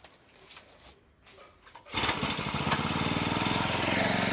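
A grass cutting machine is quiet for a couple of seconds, then its small engine fires up abruptly and keeps running loud and steady with a buzzing, even drone until the end.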